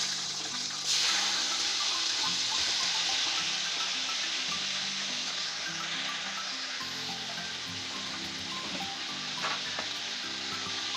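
Chicken, 1.25 kg, sizzles and fries in hot masala for chicken biryani, a steady close hiss with occasional stirring scrapes and no talk.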